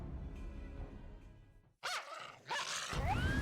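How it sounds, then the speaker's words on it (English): Dog barks and yelps from enemies transforming into dogs during a Final Fantasy XIV battle, a few loud bursts after a brief hush, over game music and combat effects. "Those were definitely dog noises."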